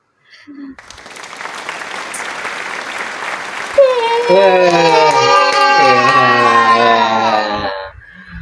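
A studio audience at an Indonesian talk show claps loudly and steadily for several seconds, swelling into sustained applause mixed with cheering and whooping voices.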